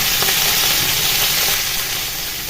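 Cauliflower frying in oil in a covered pan, giving a loud, steady, unbroken sizzle that stays even throughout, with no talk.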